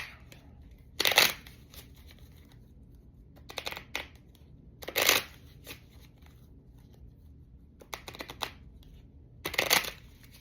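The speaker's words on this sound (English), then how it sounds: "we're back to shuffling the cards" A deck of playing cards being shuffled, with five separate bursts of riffling and flicking spaced a couple of seconds apart and quieter handling in between, heard close up with no voice.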